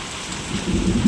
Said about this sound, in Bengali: এখন তো অনেক ভালোই জোরে বৃষ্টি হচ্ছে